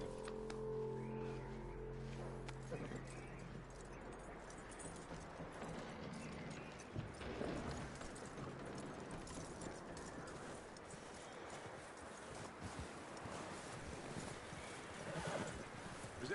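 In Red Dead Redemption 2, a horse gives a long whinny at the start, then its hooves clop steadily on the ground for the rest of the stretch, moderately close and without talk.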